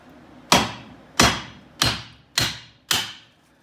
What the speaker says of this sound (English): I would recommend a mallet because it's not going to take much force